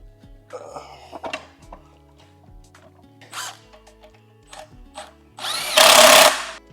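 Power tool buzzing in short bursts while an RX-8 transmission is fitted to a 07K five-cylinder engine in a BMW E30 swap, with scattered clinks and a louder sustained whir near the end.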